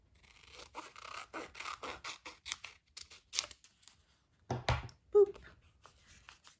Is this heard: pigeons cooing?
no